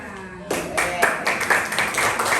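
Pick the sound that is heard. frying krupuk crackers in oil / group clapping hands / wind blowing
group clapping hands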